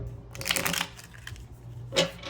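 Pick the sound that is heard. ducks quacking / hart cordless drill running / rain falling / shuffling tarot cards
shuffling tarot cards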